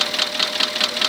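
Porsche Cayenne 4.8 engine knocking from a scored fifth cylinder with a damaged piston, a fast steady metallic tapping that repeats evenly and sits close and loud.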